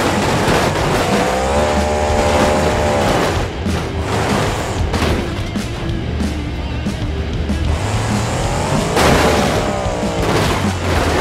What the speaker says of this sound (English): Here comes El Toro Loco's high-speed jump and crash.